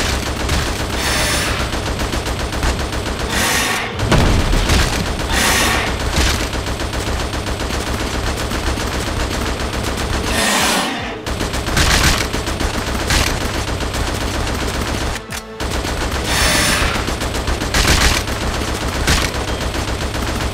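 Rapid gunfire from the Xbox 360 video game Attack of the Movies 3D, loud continuous bursts of shots repeating throughout with a few brief gaps, set over a dense game soundtrack.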